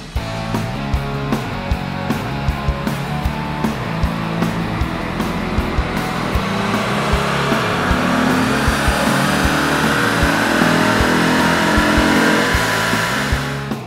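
A car engine runs continuously on a dynamometer during a tuning test after a Sniper tuning product install, a steady loud roar that gradually builds in intensity across the run with no talk.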